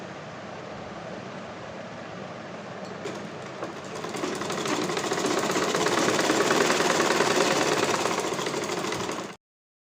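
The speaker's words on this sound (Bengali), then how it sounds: "এখন দিয়ে দিচ্ছি চাপ সেলাই, 1/16 একটা সেলাই দিয়ে দিচ্ছি।" A sewing machine runs a continuous stitch along a dress seam, a steady mechanical whir that is moderate at first and then grows louder and denser midway, running on without pause until it stops abruptly.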